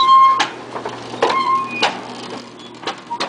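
Barn cleaner chute paddles dragging manure on a family dairy farm, a repeating mechanical clatter and squeak at roughly half-second intervals over a steady low hum.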